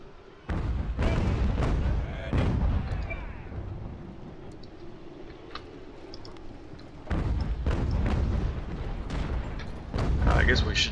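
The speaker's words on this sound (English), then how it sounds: "I guess we should probably stop firing the cannon." Cannon artillery fire during a Fort Ticonderoga battle in the Ultimate General: American Revolution strategy game, with repeated booming volleys and crackling shots in clustered bursts, a lull of rumbling battle noise in the middle, then renewed heavy salvos.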